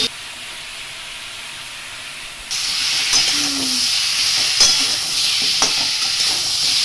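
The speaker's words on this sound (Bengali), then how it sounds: "আমটাকে পটে কষানো হচ্ছে" Mango cooking in a pot for chutney gives a steady hiss and sizzle that grows louder partway through, with a few faint clicks of utensils, and no voices.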